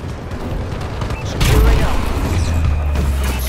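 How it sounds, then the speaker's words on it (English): Friendly bombing-run airstrike in Call of Duty: Advanced Warfare, Domination on the Core map: heavy booming blasts swell in about halfway through and roll on loudly over steady background gunfire and clatter, with a voice faintly present. "Friendly bombing run clearing the way."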